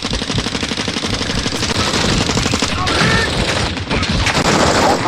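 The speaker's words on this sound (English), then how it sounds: "You are taking effective fire." Enemy special forces firing at close range in Call of Duty DMZ: rapid, continuous automatic gunfire bursts, loud and sustained throughout, with brief radio-style voices underneath.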